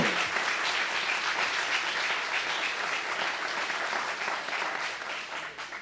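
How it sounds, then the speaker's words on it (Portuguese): Loud, sustained applause from a large church congregation, dense and steady throughout and easing slightly near the end. "Aplauda mesmo."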